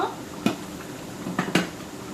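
A few light clinks of a utensil against the pot as pangas fish curry is gently stirred in a covered pot, brief sharp taps spaced apart over a quiet background.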